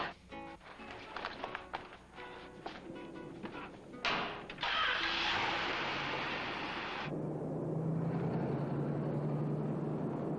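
A car starts up and drives away. Faint rattles and clicks come first, then a steady engine roar and road rush swell and hold to the end. No voices are heard.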